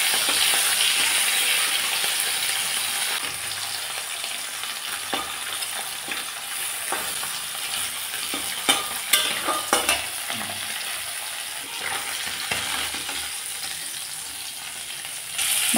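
Turned-over fish pieces fry in hot oil, giving a steady close sizzle with scattered sharp pops and a few metallic utensil taps near the end.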